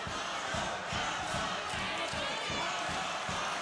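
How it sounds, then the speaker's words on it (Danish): A big arena crowd roars and chants steadily at a boxing event, with rhythmic pulses in the noise, loud and continuous throughout. "Jeg kan igennem mit headset høre, at publikum, de vil have Paolo"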